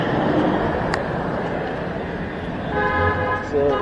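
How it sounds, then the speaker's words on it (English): Busy street traffic in Monrovia hums with constant engine noise while a car horn toots briefly near the end, and someone talks over it throughout. "Yeah, horn sound,"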